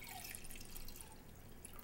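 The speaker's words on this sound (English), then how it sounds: "Then you're going to take white cooking wine," White cooking wine poured from a can into a crock pot, a close, steady liquid stream with light dripping splashes, continuous and alone with no voices over it.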